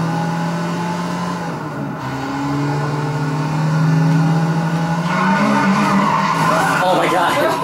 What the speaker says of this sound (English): Sweet drifting.